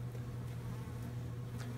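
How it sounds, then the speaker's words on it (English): A low, steady buzzing hum of honeybees droning near a light in a winter bee shed, faint and continuous with a few brief higher zips as one passes close. "Other than the bees coming at my light right now,"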